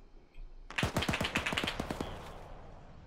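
Rapid burst of gunfire in the Arma 3 military shooter, about a dozen sharp cracking shots in quick succession, fairly close and loud, then tailing off into quiet ambient noise.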